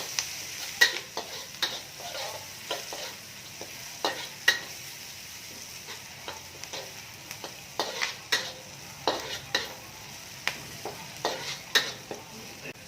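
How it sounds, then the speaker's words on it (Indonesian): Koro pele beans and spices sautéing in a pan for an oyster mushroom buttermilk dish, a quiet sizzle broken by frequent sharp scrapes and taps of a spatula stirring against the pan, close and without talk. "Nah, dan juga nih koro pele. Tumis sehingga wangi ya."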